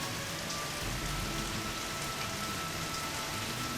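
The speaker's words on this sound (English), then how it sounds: "Ooh, it's raining." Steady rainfall in the zoo-management video game Wildlife Park 3, a continuous even hiss of rain with a faint low rumble underneath.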